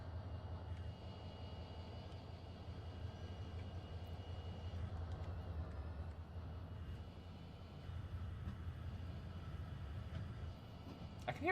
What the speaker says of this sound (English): I can hear rail popping like there's a train moving around somewhere.